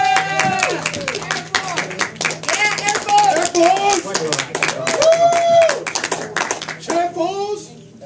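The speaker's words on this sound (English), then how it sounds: "Big round of applause for that lovely lady." Audience clapping for a woman bidder at a charity penny auction, a lively patter of hands mixed with children's voices and cheerful talk throughout, fading near the end.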